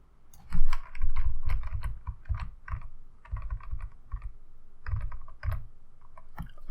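Typing on a computer keyboard during a Photoshop text-logo session produces bursts of close, crisp key clicks in uneven clusters with short pauses, and nobody speaks.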